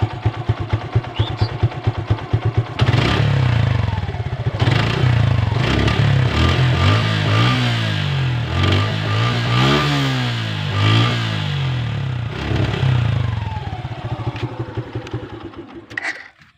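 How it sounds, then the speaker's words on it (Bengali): Suzuki Gixxer Monotone motorcycle exhaust, loud and close, starting with a short idle and then blipping into a series of rising and falling revs before settling back down. "আমার কাছে এই বাইকের এক্সস্ট সাউন্ড অনেক সুন্দর লাগে"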